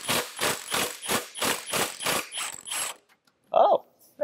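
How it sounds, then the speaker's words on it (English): Impact gun short-blipped on a bolt during an R32 engine removal: eight rapid rattling bursts in a steady rhythm, close and loud, then a pause and two brief metallic clanks. "An impact gun can be your friend, but if you just full throttle send it coming out, you're probably gonna break the bolt."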